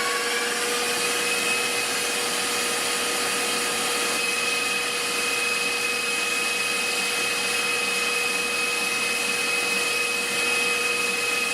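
An electric stand mixer runs at about speed 7, beating powdered sugar and eggs together for pistachio macarons. It gives a steady, continuous motor whine with a constant pitch throughout, with no voices.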